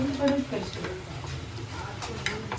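Crab masala being sautéed and stirred in a pan, a soft scrape and clink of a spoon against metal over a faint sizzle, fairly quiet and close.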